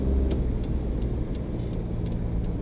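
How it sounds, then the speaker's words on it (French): Steady rumble of a car driving on the volcanic island of Miyakejima, heard from inside with constant low road and engine noise and a few faint clicks or ticks. "On a repris la voiture."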